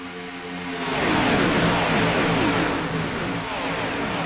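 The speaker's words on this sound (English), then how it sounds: "I did hear one car running all by itself." A single racing car engine in a sim racing game at Daytona International Speedway roars steadily at high revs, its pitch climbing then holding, loud and close with no other cars or voices.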